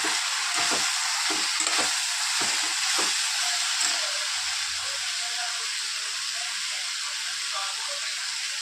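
Dried fish and eggplant frying in oil for a Marathi mixed vegetable dish, a continuous bright sizzle close by, with a few soft stirring knocks early on and a person speaking over it.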